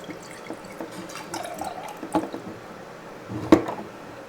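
Water empties from the tank of a cordless wet/dry vacuum. Quiet, scattered drips and a couple of sharper splashes fall one at a time in a calm room.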